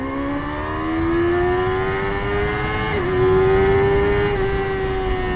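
A Kawasaki ZX6R motorcycle engine revs hard and loud for several seconds, its high-pitched scream climbing steadily with a brief dip partway through, and no talking over it.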